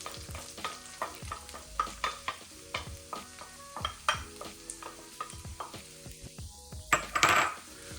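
Shallots frying in a pan while being stirred for Creole compound butter, with a steady sizzle broken by repeated close scrapes and clinks of a utensil against the pan, louder clattering near the end.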